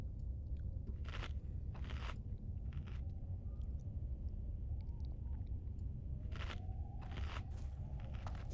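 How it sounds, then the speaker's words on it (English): A crunchy snack is bitten and chewed close by in several sharp, crackly bursts over a steady low background hum. "And I'll take a little snack here."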